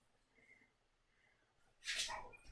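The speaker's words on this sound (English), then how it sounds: "If you can hear Murder Dog in the background, it's because he's in his crate." A dog in its crate giving a faint whine followed by a short, sharper yelp or huff near the end, heard in a quiet room.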